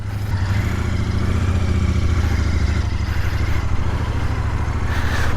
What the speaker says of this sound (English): Let's get her fired up. Oh, nice little noise.